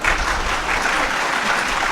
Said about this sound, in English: So, all the students are clapping.